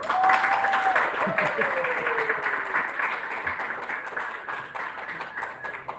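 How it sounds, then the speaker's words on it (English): Audience clapping at an army retirement ceremony, a steady wash of applause from a gathered crowd with a voice speaking over it near the start, then continuing on its own and tapering slightly toward the end. "Clap, clap, clap, clap."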